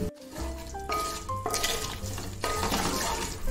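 A tempering of curry leaves and raisins fries in a pan for coconut rice, a steady sizzle with spoon stirring and light scraping against the metal, close and continuous.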